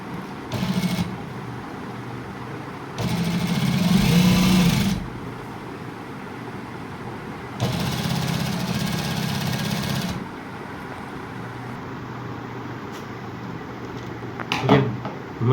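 Sewing machine stitching a border strip, running in several separate bursts of steady motor whir a few seconds long with quieter pauses and handling clicks between.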